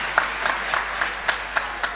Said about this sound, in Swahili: wapatieni makofi.